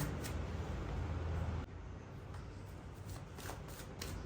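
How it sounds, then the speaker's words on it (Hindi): A deck of tarot cards is shuffled close up, giving a dense papery riffle that runs continuously and then shifts to softer, quieter sliding and flicking. "अच्छे से शफल कर लेते हैं पहले"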